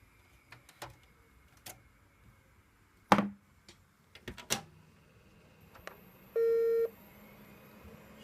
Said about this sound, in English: You could just hear that one beep,